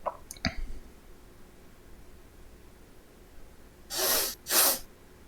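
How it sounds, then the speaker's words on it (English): Two sharp, close sniffles of a congested nose come near the end after a quiet stretch, preceded by a couple of small clicks and a soft sniff at the start. "Excuse my sniffling, I'm sorry."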